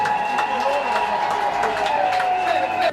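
An audience at a public gathering with a deputy in Mitendi Kivula applauds in a scattered crowd, with a loud voice carrying over it the whole time.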